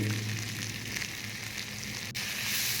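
Ginger and garlic fry in a pan with a steady, even sizzle that holds at moderate loudness from start to finish. Nobody speaks.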